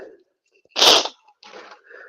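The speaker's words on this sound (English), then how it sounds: "I have to sneeze again." A single loud sneeze bursts out in a quiet room, with a few faint breathy sounds before and after it.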